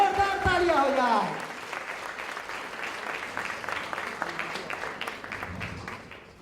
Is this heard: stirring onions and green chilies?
no